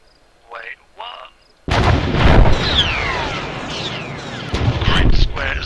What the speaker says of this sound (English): We have taken multiple artillery rounds and have got multiple tier 3s